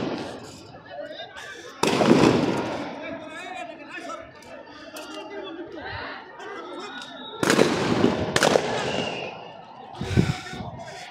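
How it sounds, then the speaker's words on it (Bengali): Police fire sound grenades and tear gas shells at protesters during a street clash, with two loud sharp bursts and smaller pops standing out over a steady murmur of crowd chatter and talk. "পুলিশ তাদের উদ্দেশ্য করে কাঁদানে গ্যাস এবং সাউন্ড গ্রেনেড ছুড়ে"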